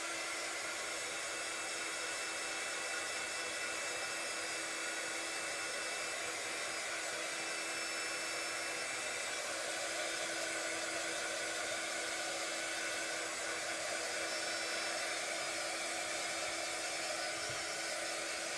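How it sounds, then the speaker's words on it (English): A heat gun blows hot air to dry acrylic paint, making a steady, even whoosh like a hair dryer. It runs unbroken at constant loudness for the whole stretch, with no talk. "I'm going to give it a quick blast with the heat gun"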